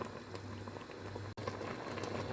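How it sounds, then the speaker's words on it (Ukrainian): A pot of pear jam bubbles at a gentle simmer, soft popping and gurgling close by with a low steady hum underneath. "Груша закипіла. Кипіти буде 5 хвилинок."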